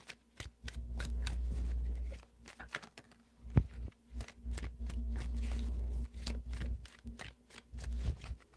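Tarot cards are shuffled repeatedly up close, with long stretches of rapid riffling broken by sharp taps and pauses, clattering steadily at moderate volume.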